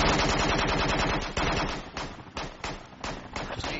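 Sustained automatic gunfire from a video game, loud and close, with a dense continuous machine-gun stream that breaks into shorter separate bursts toward the end.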